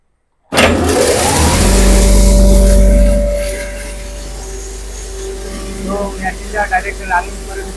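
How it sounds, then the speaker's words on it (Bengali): A pulverizer grinding machine for wheat, coriander, chili and spices, not yet fully bolted down, starts with a loud surge and roars steadily, then settles to a lower running drone with a few rhythmic knocks. "আপনাদেরকে মেশিনটা এখনই আমি একটু চালিয়ে দেখাই"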